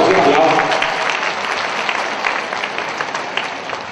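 Audience applause for a children's choir at a Hong Kong ceremony, a steady close burst of clapping that gradually thins out, with a voice speaking over it.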